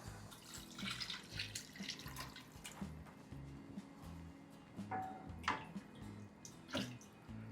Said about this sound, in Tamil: நீங்கள் வந்து கரெக்டாக 3/4 லிட்டர் அளந்து ஊற்றிக்கோங்க